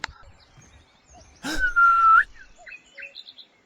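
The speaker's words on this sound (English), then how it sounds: "So let's go and do a whistle again." A single clear whistle, held steady for about a second and rising at the end, sounds in an Unreal Engine 4 game, preceded by a short breathy burst and followed by faint chirpy blips.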